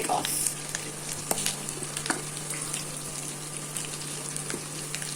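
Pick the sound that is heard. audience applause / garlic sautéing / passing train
garlic sautéing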